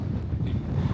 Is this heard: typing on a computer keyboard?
no